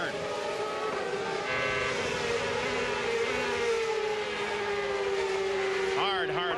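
A CART open-wheel race car at the 2000 Rio 200 screams along the front stretch and down through the gears into the first turn, a loud, sustained high engine whine with pitch dropping as it shifts, under a faint commentary voice.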